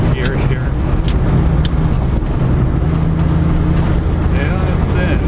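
A car with a sequential shifter pulls hard in fifth gear, its steady engine drone rumbling loud and close throughout, with brief higher whines and a voice speaking over it.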